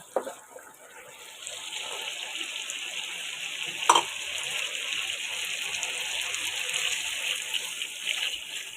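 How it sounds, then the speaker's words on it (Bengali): A sharp clatter, then a hot pot of beef kacchi hisses and sizzles steadily as water goes in, with a brief metallic clink midway; no talking. "এই পর্যায়ে আমি পানি দিয়ে দিচ্ছি"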